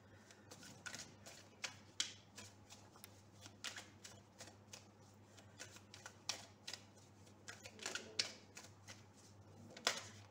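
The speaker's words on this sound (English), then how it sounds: "Pre-shuffle the cards and keep," Rider-Waite tarot cards being shuffled by hand close up, a steady run of soft riffling flicks and card slaps over a low background hum, with no talk.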